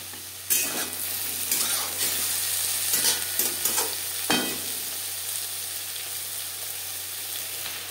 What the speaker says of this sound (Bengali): ফোড়নের সাথে বেগুন বেশ ভালো করে মিক্স করে দেবো।